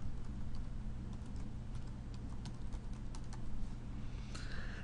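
Steady clicking on a computer keyboard as an email address is typed, a quick run of light key taps close by over a constant low hum.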